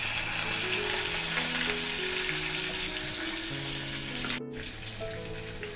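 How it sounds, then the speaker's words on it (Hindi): Ground spices frying in hot oil with curry leaves for a black pomfret fish curry, a continuous close sizzle with faint background hum and a short break near the end. "अब इसमें पिसा हुआ मसाला डालेंगे,"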